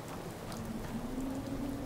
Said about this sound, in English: I like the rain, though.